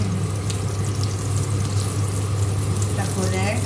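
Hot oil spatters and sizzles in a pan of stir-fried mie wudhun noodles after water splashes in, a steady loud crackling hiss under a low hum, with someone talking over it.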